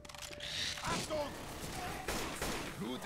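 Bursts of gunfire ring out in Left 4 Dead 2 survival mode on the No Mercy hospital map, several sharp cracks mixed with game effects and voices talking over the action.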